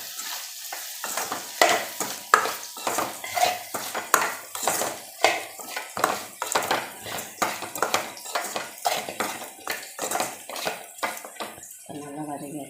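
Ingredients for a Tamil dried-fish curry are stirred and sautéed in a pan, with repeated scraping and clinking of a spoon against metal over a soft sizzle, steady and close.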